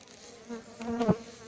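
Honeybees from a queenless colony at Montgeron buzz close by in short, rising drones, one bee sweeping loudly past near the end.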